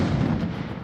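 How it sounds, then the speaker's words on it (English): A German 88 artillery gun fires a single booming shot, a loud, broad blast that rolls off over about a second. "The 88 was the scariest gun you'd ever want to hear go off"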